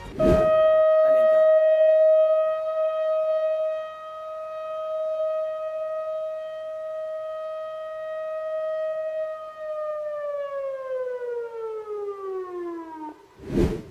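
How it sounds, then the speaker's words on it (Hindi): An emergency civil defense siren is tested in Saudi Arabia, sounding one long sustained wail at steady pitch before winding down in a falling glide near the end, loud and alone, with short noisy bursts at start and finish. "सऊदी अरब ने मिडिल ईस्ट के बिगड़ते हालात को देखते हुए इस इमरजेंसी सायरन का टेस्ट किया है।"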